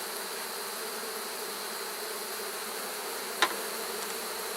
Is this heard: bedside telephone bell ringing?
no